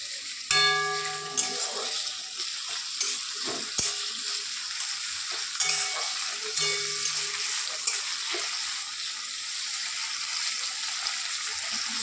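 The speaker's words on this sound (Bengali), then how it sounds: "আমি কড়াইতে দিয়ে দিচ্ছি হচ্ছে অনিয়ন আর টমেটো, যেটা আমি এখন রিফাইন্ড অয়েলে ভাজতে দিয়েছি" Onion and tomato frying in refined oil in a kadai give a steady, close broadband sizzle with a few clinks of stirring, continuing without talk.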